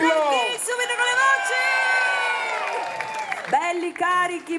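Concert crowd in Piazza Manzoni, Jesolo, roaring with a sustained mass of shouts, whoops and cheers that swell, dip briefly and rise again, loud and dense across the whole open-air square.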